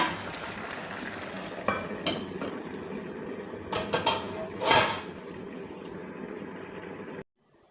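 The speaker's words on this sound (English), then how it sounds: "So while my meat is still cooking, I'm going to go ahead and fry my fish." Fish frying in a pan while meat cooks for Nigerian banga stew, a steady sizzle broken by clanks of utensils against the pan and a few louder bursts, ending abruptly.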